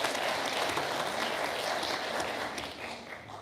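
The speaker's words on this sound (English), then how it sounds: "Please give them a round of applause." A room of people at a school board meeting claps warmly for retiring staff, a full, steady burst of applause that tapers off unevenly near the end.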